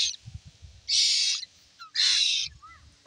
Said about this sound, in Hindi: वहाँ एक पक्षी का बच्चा गिरा था जो आप सबको हम दिखाना चाहेंगे।